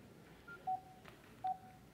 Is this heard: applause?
no